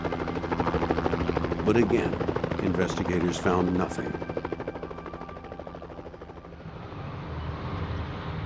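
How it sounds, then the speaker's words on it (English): Helicopters circle overhead during a night search near railroad tracks, a steady rhythmic rotor chop heard under someone narrating, fading somewhat toward the end. "They scanned the area inch by inch as choppers circled overhead."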